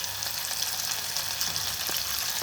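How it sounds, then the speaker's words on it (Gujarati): Chillies sizzle in a hot oil tempering for Swaminarayan khichdi, a loud, dense, continuous hiss of frying close by, with no voices. "મરચાં બરાબર એને વઘાર થઈ ગયો છે"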